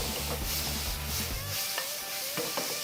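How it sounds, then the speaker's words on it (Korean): Chili powder and other ingredients stir-fried in a wok for jjamppong, a steady close sizzle with scraping stirs throughout, no voices. "이제 볶고 어느 정도, 뭐 3초 정도 더 볶은 다음에"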